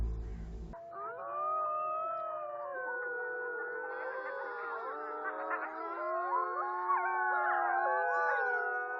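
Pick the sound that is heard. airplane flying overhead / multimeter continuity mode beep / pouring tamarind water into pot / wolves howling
wolves howling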